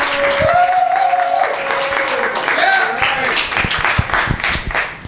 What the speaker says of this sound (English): give her a loud applause for Jamie Rose Wilder